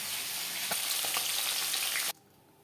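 Chopped onions and tomatoes land in oil left from frying silver carp, giving a loud, close, continuous sizzle with faint crackles that stops abruptly after about two seconds.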